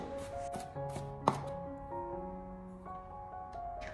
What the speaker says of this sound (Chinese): 最后我们再将它切成蒜末